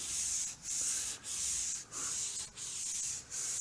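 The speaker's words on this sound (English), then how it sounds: "Yeah, sand with the grain." A wooden kitchen countertop is hand-sanded along the grain in steady back-and-forth strokes, a close hissing rasp broken by brief pauses at each change of direction, about six strokes with no voices.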